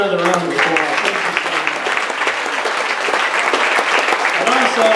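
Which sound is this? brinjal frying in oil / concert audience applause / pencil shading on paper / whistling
concert audience applause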